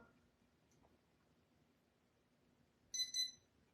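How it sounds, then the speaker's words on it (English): Two quick high-pitched electronic beeps close together near the end, after a stretch of quiet low background hum. "That's 2 beeps."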